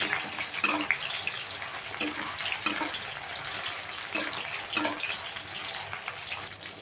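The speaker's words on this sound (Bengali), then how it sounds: "এবার আঁচটা মিডিয়ামে রেখে আস্তে আস্তে ভেজে নিতে হবে" Soybean chunks frying in oil in a kadai over medium heat give a close, continuous sizzle with scattered sharper pops and a few stirring clicks, and no speech.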